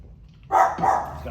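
A dog close by gives two quick barks, one after the other, over a quiet background.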